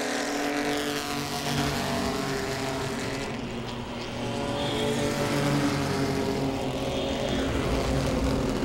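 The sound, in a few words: race cars racing on oval track, Langley Speedway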